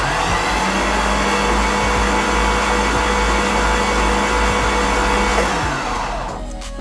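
Nissan 240sx with a swapped LS V8 engine cranking over on the starter, a loud continuous whirring drone held close for several seconds before trailing off, with no talking.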